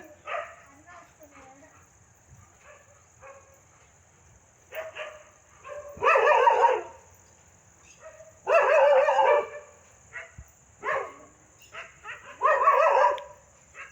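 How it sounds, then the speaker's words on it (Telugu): A dog barks at a temple in repeated loud bursts, several barks in a row with short pauses, over a quiet background with some fainter yips between. "ఎందుకు అరుస్తుంది కుక్క"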